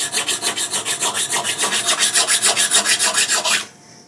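A file recrowning guitar frets rasps in quick, even back-and-forth strokes, close and loud, about five strokes per second, then stops abruptly near the end.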